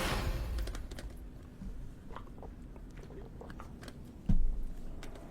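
A person chewing food close to the mic, soft irregular crunches and bites with a brief louder thump, quiet and alone.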